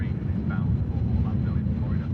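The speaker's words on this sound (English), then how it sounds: "You can hear another loud plane over on Matt's POV" A loud airliner at Manchester Airport gives off a deep, steady engine roar that dominates throughout, close and sustained, with a voice talking faintly underneath.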